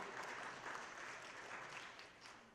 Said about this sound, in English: they're getting a clap